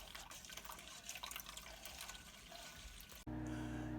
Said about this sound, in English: adding first 500 and then 200 more milliliters of water, of hot water, to the Jello mix.